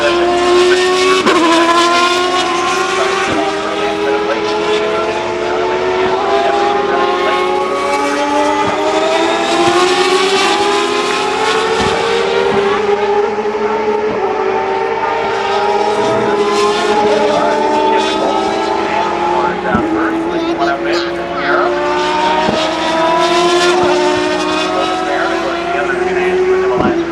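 Indy cars of the CART series at speed on track at Portland International Raceway during a fast session, engines screaming loud and continuous with rising and falling pitch as several cars pass near, under a commentator talking.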